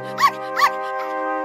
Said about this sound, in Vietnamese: Ngay lúc đó, cô thấy một con chó con cách đó không xa.